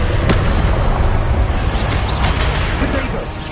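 A fire-spell blast in a wizard video game, loud and dense, with a roaring burst that stays heavy through most of the moment before easing slightly at the end; voices call out spells over it.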